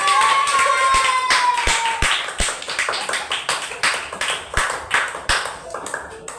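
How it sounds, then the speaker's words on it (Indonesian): Audience clapping for a group at a teacher training session, starting as a dense round with a whistle-like tone, then settling into loud, sharp, spaced claps in an irregular rhythm. "Tepuk tangan untuk kelompok C."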